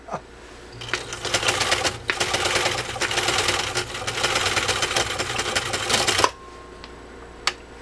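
A Singer sewing machine, one of a Singer 66 or Singer 301A, stitches through a single layer of biothane coated webbing, a steady fast mechanical clatter running for about six seconds before stopping abruptly, close and loud.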